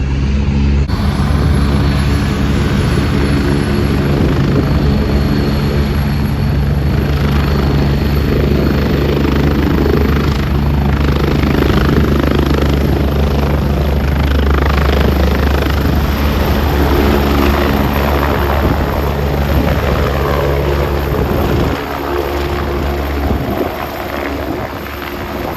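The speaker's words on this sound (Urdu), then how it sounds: "سامنے ایک دم ہیلی کاپٹر لینڈ ہوا ہے، ساری اس کی نا ہوا میں اوپر آ رہی ہے" Helicopter landing close by in a public market parking lot, a loud, steady roaring rotor drone with heavy wind buffeting the microphone throughout, easing slightly near the end.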